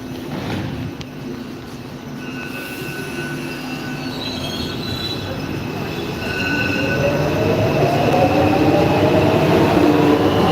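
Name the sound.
metro train departing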